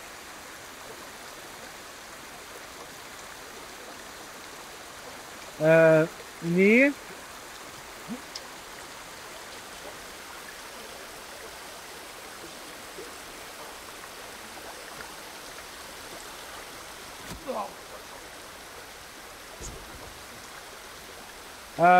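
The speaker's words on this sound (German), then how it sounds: "Ich hoffe, man hat es verstanden bei diesem gar nicht lauten Wasserfall." A waterfall in the video game Ghost of Tsushima, a constant loud rushing wash of water throughout, with brief bursts of speech-like sound and tones over it.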